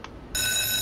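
Phone in a Roblox subway elevator giving a short click, then a steady bright electronic ring tone starting a moment later and holding to the end.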